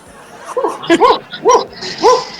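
A dog barks and yips in quick, close bursts, four or five sharp calls spaced about half a second apart, loud and clear against a quiet background.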